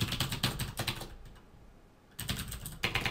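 Someone types code on a computer keyboard in brisk clicky bursts, with a short pause in the middle before the tapping resumes, close and fairly quiet with no talking.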